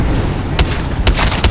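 A grenade explosion and bursts of gunfire from an Apex Legends match on Kings Canyon, two sharp loud blasts about half a second apart over a steady dense game background.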